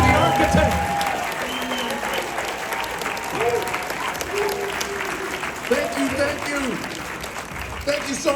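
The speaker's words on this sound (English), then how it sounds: "a big round of applause to the architect" A crowd at a political rally in Orange County applauds and cheers at length, a sustained roar of clapping with voices rising above it and some whoops, loud and continuous throughout.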